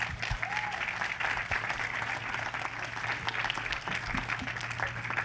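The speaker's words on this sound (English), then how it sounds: "A round of applause." An audience applauds at an investors' keynote and panel event in Cannes, with dense, sustained clapping from a seated crowd filling the room evenly from start to finish.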